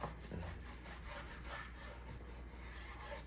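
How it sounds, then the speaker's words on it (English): A knife slices a chuck roll of beef into steaks about five-eighths of an inch thick, giving very faint, rough rubbing and scraping strokes in a slow rhythm, close by and quiet, with no voices. "So it looks like I'm cutting these about 5/8 of an inch thick"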